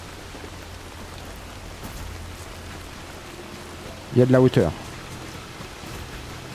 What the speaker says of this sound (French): Il s'arrête jamais de pleuvoir dans cette putain de...